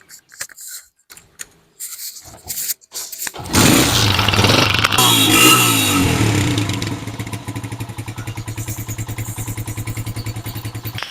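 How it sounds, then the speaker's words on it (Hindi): A 2009 Honda 125 motorcycle engine cranks with a few short clatters, catches, revs loudly, then settles into a steady, rhythmic idle. "इसका साउंड चेक करें, उसकी स्टार्टिंग चेक करें।"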